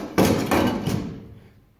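A loose pontoon boat door bangs on worn, out-of-round hinges: two loud hollow thumps close together, then a lighter knock that rattles and fades.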